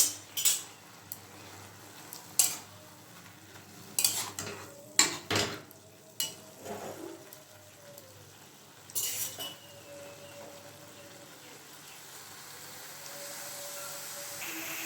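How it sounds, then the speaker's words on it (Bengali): Fried prawns being stirred into red amaranth greens in a pan, with scattered metal clinks and scrapes of a utensil against the pan over a low sizzle, several sharp knocks in the first half, then quieter. "এবার দিয়ে দেব ভেজে রাখা চিংড়ি মাছগুলো।"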